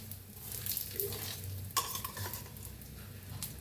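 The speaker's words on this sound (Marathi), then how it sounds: "छान तूप लावून घ्यायचं आणि दोन्ही साईडने छान असं भाजून घेऊया आपण पोळीला" Puran poli roasts with ghee on a pan, giving a faint, steady sizzle broken by occasional scraping and utensil clinks, heard close and quiet with no talking.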